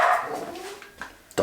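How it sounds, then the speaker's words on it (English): Dogs barking excitedly at a holiday spot in El Nido, Philippines, with a quick run of yips and whining barks, moderately near, ending in one sharp bark. "Oh my God! Dogs are going mad."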